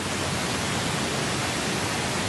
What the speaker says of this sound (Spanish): esto es ruido rosa, que tiene enfatizados los graves y atenuados los agudos